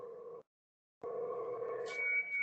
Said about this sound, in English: it's only tones. There is nothing else. There is no other digital signal on FT8.